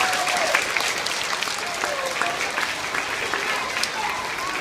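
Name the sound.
audience applause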